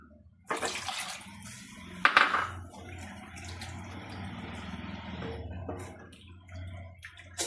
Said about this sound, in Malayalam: പിന്നെ ഇതിന് ആവശ്യത്തിനുള്ള വെള്ളം കൂടെ ഒഴിക്കാം